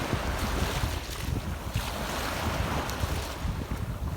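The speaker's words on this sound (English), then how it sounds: "I hope that it's not too loud or too windy." Wind buffets the microphone in constant low rumbling gusts, with a rushing outdoor wash like waves beneath it.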